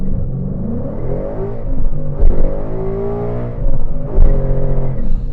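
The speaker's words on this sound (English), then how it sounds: "S197 Mustang, first impressions." A Ford Mustang S197 with a V8 engine pulls away on the road: a deep, loud rumble that climbs in pitch as it accelerates, with brief drops at the gear changes and no one speaking.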